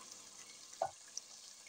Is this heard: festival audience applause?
no